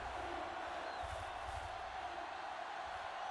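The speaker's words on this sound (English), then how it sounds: "this Kingston crowd cheers on." An American football crowd cheers steadily in a stadium, a broad continuous roar heard from a distance with no single voice standing out.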